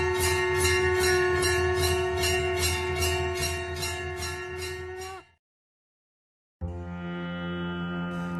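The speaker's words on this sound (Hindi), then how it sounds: "घाट पर मंदिरों में घंटियां बजने लगती है" Temple bells ringing at a Varanasi ghat during the Ganga aarti, a loud sustained ringing of rapid repeated strikes with rich overtones, breaking off into brief silence before bright ringing resumes.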